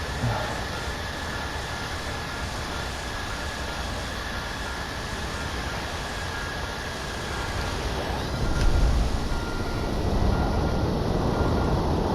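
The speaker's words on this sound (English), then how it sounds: "This is the best thing about the reverse thrust system in this. Look how cool that is. Reverse thrust." A Tornado IDS jet engine in reverse thrust, a steady broadband roar that swells slightly louder near the end, with no voices.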